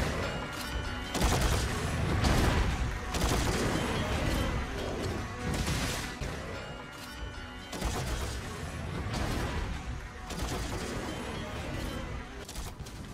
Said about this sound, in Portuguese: E ele vai fazer uma rajada de atiradeira